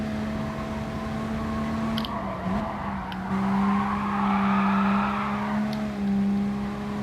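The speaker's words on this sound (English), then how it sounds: "car does drift very nicely though." Car drifting with tire squeal in a British-car racing video game, a steady engine drone with a long sliding squeal building in the middle, continuous and fairly loud.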